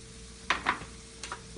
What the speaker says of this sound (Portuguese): Então aqui vai fritando, aqui já tá bom